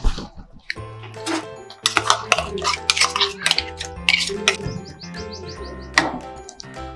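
Ground paste is mixed into a pot of drumstick curry, with a spoon scraping and clanking against the metal pot in irregular close bursts. Faint chirps sound in the background.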